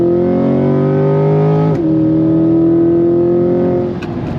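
A C8 Corvette Z51 Stingray special edition sports car accelerates hard in third gear. The loud, close engine roar climbs steadily, dips briefly at a shift, then climbs again.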